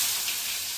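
Onion dropped into hot oil after frying potatoes hisses in a bright, continuous sizzle, close and fairly loud, holding steady through the brief moment with no voice.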